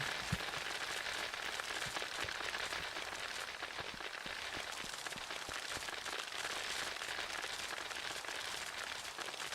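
Steady rain hisses and patters without a break throughout a Minecraft horror modpack game world, a dense, even wash of falling drops at constant loudness.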